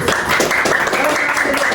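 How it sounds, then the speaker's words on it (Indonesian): A class claps for a group, giving a short burst of dense, close applause from many hands. "Beri tepuk tangan buat kelompok"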